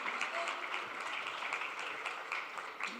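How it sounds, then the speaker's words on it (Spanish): A seated audience at a mediation and arbitration forum panel applauds in a continuous, moderately loud wash of clapping with a few sharper claps standing out. "Fuerte aplauso, por favor."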